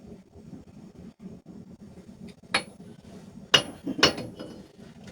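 A few hammer blows on a knife blade resting on an anvil, three sharp metallic clinks separated by pauses above a quiet low background hum.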